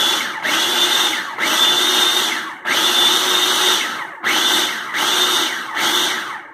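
A food processor pulses salsa fresca ingredients including cilantro, loud whirring motor bursts in about five pulses of roughly one second each, separated by brief pauses, with no talking.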